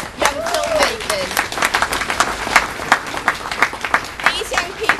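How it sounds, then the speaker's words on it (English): Applause from an audience at a community memorial event in Ladbroke Grove, with many distinct claps ringing out steadily for several seconds, mixed with scattered voices and a brief voiced call in the crowd. "Can we just all give a hand of applause to our young filmmakers?"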